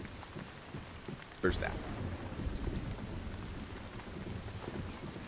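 Rain and thunder in the survival video game Once Human: a sharp thunderclap breaks in, followed by steady rain hiss and low rumbling, with a person talking briefly over it.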